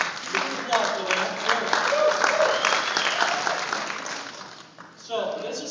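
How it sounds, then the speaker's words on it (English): Audience applause, a dense crowd of clapping that swells and stays full for about four seconds, then thins as a voice cuts in near the end. "You can applaud for that."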